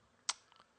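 A single sharp, faint click of a computer mouse, quickly followed by a couple of softer ticks, in a quiet room.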